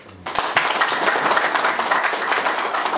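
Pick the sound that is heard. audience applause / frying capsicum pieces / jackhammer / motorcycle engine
audience applause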